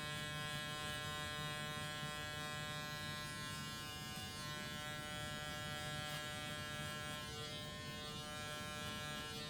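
Electric beard trimmer with a 0 guard cutting through a beard, a steady close mechanical buzz with a constant hum that runs without a break the whole time, no talking.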